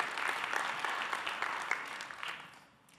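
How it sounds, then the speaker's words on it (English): A church congregation gives a hand clap of steady applause, quiet and somewhat distant, lasting a few seconds before tapering off. "give the Lord a hand clap."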